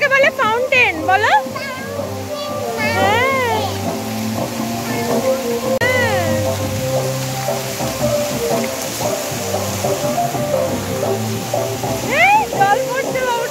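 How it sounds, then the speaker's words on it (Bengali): Water splashes and pours continuously in a fountain show, a steady rushing wash under an adult and someone talking throughout. "এটাকে বলে ফাউন্টেন বলো।"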